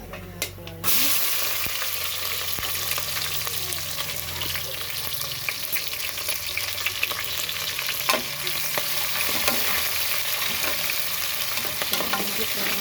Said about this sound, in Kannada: ಈಗ ಇದಕ್ಕೇನೆ ಏನು ಹಾಕಬೇಕು ಅಂದರೆ ಈರುಳ್ಳಿ ಮತ್ತು ಹಸಿಮೆಣಸಿದೆಲ್ಲ ಅದನ್ನು ಹಾಕೊಳ್ಳೋಣ